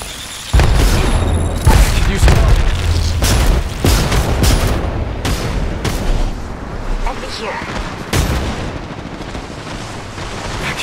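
A frag grenade exploding in a multiplayer shooter game, a heavy boom followed by a string of sharp blasts and gunfire, loud and close, with game voice lines over the mix.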